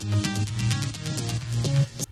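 A soloed synthesizer saw lead group plays a short bright phrase of buzzy sawtooth notes with a pulsing, rhythmic gating, fairly loud and alone, ending abruptly after about two seconds.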